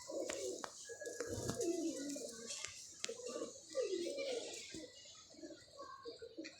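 Bird calls from a blue-tailed pigeon, repeated soft cooing phrases close by with some chirps, and faint background noise throughout.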